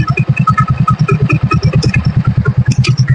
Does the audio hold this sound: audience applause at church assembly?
no